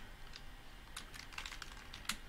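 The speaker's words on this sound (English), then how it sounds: "now we can go ahead and just type out our example here" Quiet, close typing on a computer keyboard: irregular bursts of light keystroke clicks, with a sharper tap near the end and no voices.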